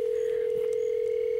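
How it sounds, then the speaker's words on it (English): A steady telephone dial tone hums alone throughout, with a few faint blips over it and no voices. "take hold of your telephone, dial the number"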